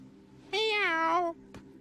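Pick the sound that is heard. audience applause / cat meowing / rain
cat meowing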